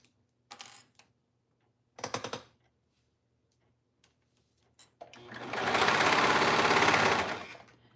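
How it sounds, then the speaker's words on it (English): Sewing machine stitching a neckband onto a basic knit tee, a sustained loud run of stitching for about two seconds near the end, preceded by a few short bursts and clicks of handling. "So I'm just stitching on my neckband"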